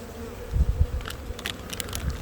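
Honeybees buzzing around an open hive while a trainee swaps them into a new box during spring beekeeping work, a steady insect drone with a few louder close passes and low handling thumps.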